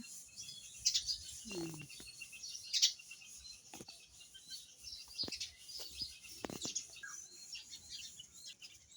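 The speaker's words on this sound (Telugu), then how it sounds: "అక్కడ ఒకటి ఇక్కడ ఒకటి రెండు పిచ్చుకలు ఎంత బాగా ఏర్కొని తింటున్నాయి" Faint, sparse chirps from two house sparrows feeding, a few short tweets scattered over a quiet background with occasional soft knocks and rustles.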